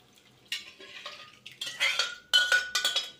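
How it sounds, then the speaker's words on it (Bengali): Cooked dal (lentils) poured into a cooking pot in a home kitchen, heard as a series of wet splashing bursts with light metallic clinks of the pot and utensil, close and fairly quiet. "ডালটা পুরোটা আমি ঢেলে দিলাম"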